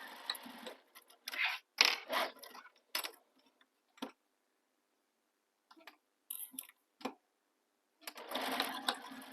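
A sewing machine stitches the short raw edges of a crossbody bag together to baste them, quiet close bursts of rapid whirring separated by pauses and a few clicks.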